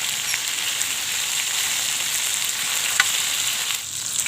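Fish fries in oil over a wood-fired stove, a steady close hiss and crackle of sizzling with occasional sharper pops, continuous and fairly loud.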